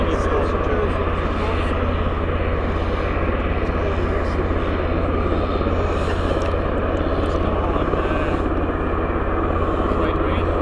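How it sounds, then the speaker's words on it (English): Pilatus PC-12 single-engine turboprop at Stansted Airport, a steady, loud, continuous engine roar with a low propeller drone holding throughout, under light talk. "It is a PC-12, I thought so."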